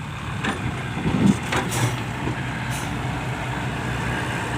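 A large Hino dump truck rumbles past on a muddy, rain-soaked road, a steady low engine drone with a brief hiss of air brakes near the middle, loud and close throughout.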